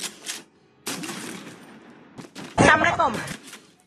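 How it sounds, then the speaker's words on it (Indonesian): Bursts of video game gunfire, rapid shots in short clusters with a loud volley near the end, mixed with other game sounds. "Karena mendengar suara tembakan di depan ruangannya, Gomez mempersiapkan senjata apinya"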